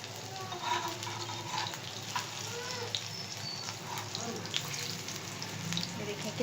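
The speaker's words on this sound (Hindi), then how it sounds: "ये बहुत अच्छी तरह फ्राई हो रहे हैं" Mutton gola kababs fry on a hot tawa with a steady, soft crackle and sizzle that runs the whole time, heard close but fairly quiet, with faint clinks and light handling noises mixed in.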